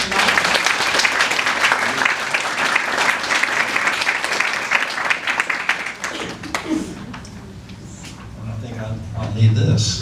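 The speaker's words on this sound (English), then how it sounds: "Please give David Ashton a warm round of applause." A design week audience applauds speaker David Ashton, a dense burst of clapping that fills the first six seconds and then thins out to scattered claps. Faint talk and shuffling follow as the applause dies.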